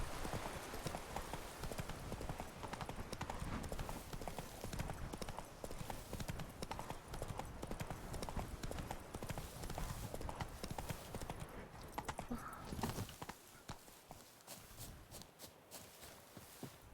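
Horse hooves clip-clopping in steady rhythm while riding in The Witcher 3: Wild Hunt, loud and close, with the hoofbeats changing character near the end as the surface seems to shift.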